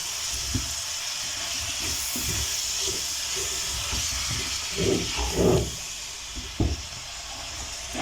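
Mixed vegetables hiss and sizzle steadily in a hot pan as they are stir fried, with occasional soft thumps and scrapes from stirring beneath the constant frying noise.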